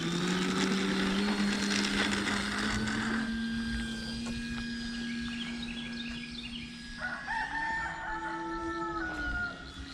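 An E-flite Commander mPd 1.4m aerobatic electric RC plane flies off grass rather than pavement, its motor a steady whine that rises in pitch near the end, joined by loud nearby turkey gobbling and other birdsong.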